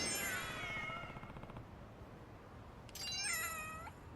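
Cats in the video game Lost Judgment give two distinct meows, one at the start and another about three seconds later, clear and close over a faint steady background hum.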